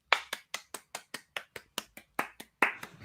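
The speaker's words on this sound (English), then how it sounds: "Everybody clap your hands." Single pair of hands clapping in a slow, even rhythm, about a dozen sharp, crisp claps spaced roughly a quarter second apart, close and clear with no talking over them.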